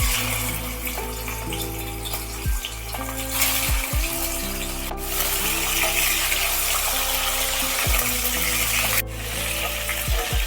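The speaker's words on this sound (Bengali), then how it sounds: "এইবার চিংড়ি মাছগুলো একটু ভেজে নেব।" Shrimp frying lightly in mustard oil in a wok, a continuous close sizzle with a few sharp clicks of utensils and steady tonal hum beneath; no voices.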